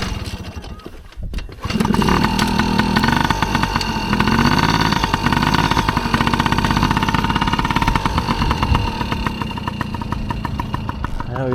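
A dirt bike engine runs steadily and loud after a brief start, its mid-pitched idle and revving churn filling the clip with no talk over it.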